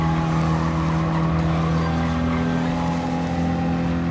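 A tiny Fiat 500F engine drones steadily at high revs in Gran Turismo Sport, a loud continuous buzzing note that shifts pitch slightly midway as the throttle is held through a custom race.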